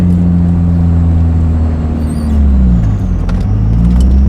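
An Isuzu D-Max pickup with a 3.0 engine and manual gearbox drives steadily through a curve, its engine note a continuous loud drone with a slight pitch dip midway, no voices present.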